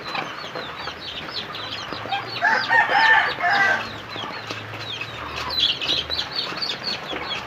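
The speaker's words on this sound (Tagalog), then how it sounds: "kami ay magpakain ng aming mga manok." Farm chickens cluck busily nearby while a rooster crows loudly in the middle, with more clucking and chatter continuing around it, around feeding time.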